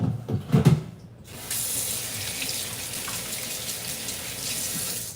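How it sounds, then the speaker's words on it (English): Hands being washed under a running kitchen tap: a brief clatter of handling at first, then a steady, close rush of water streaming into the sink with no voices. "So let me wash my hands very quickly."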